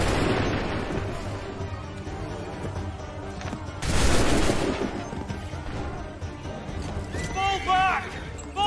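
Musket volley gunfire in Assassin's Creed III during a Lexington and Concord battle: a loud burst of massed shots around the middle, over constant battle noise and shouting voices.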